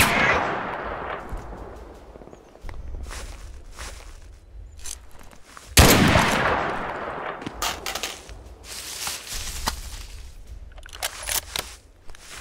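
Gunfire in the Mud and Blood war game: scattered sharp shots and bursts, one loud close blast midway followed by a rumbling tail, then more distant pops and cracks.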